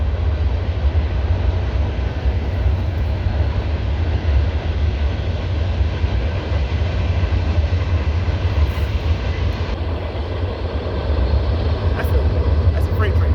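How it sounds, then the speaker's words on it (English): Freight train rolling past close by, a continuous heavy low rumble and rattle at loud, even level throughout, with a voice faintly underneath. "That's a freight train."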